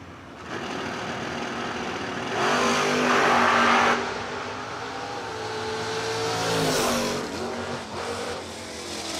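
Supercharged race car engine at a drag racing event, accelerating hard with a loud rising roar, surging in two strong bursts before fading into distant motor noise.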